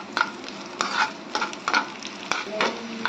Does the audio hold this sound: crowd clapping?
no